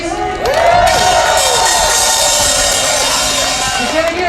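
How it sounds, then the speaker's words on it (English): A large crowd at a street protest rally against anti-Asian violence in Chinatown cheers and whoops loudly and continuously, with shouts rising over a sustained roar of voices. "can I get a cheer for every organizer here, please?"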